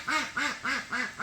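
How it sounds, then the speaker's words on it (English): Ducks quack four times in an even rhythm, loud and close, with no talk, near someone working on glued Traxxas TRX-4 tires with acetone. "The ducks are really curious as to what the heck I'm doing up here."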